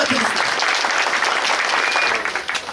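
A crowd applauding loudly and continuously at a condolence house opening in Demirtaş, Toroslar, the clapping thinning out toward the end.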